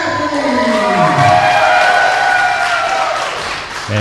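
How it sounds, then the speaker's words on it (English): A crowd applauds and cheers steadily as wrestlers are introduced in the ring at a Michigan independent show, with a tonal musical line sliding beneath the clapping and a brief dip near the end. "Jamie Crisis and Jeremy Hadley getting a good hand in the Michigan Town crowd"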